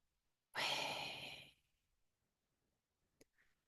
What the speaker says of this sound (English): As we do a collective breath, inhaling Yah into our bellies and exhaling Way.